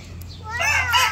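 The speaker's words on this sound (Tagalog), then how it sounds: "May isa pa pong manok." Chicken clucking, a short run of raspy calls rising toward the end, fairly close, over a low steady background hum.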